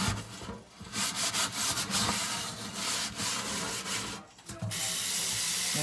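Vigorous scrubbing of corned beef or cabbage under a running tap, a steady broadband rasping rub with brief pauses, close and fairly loud with water running throughout and no talk.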